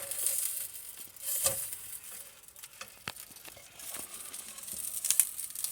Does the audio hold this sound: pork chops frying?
yes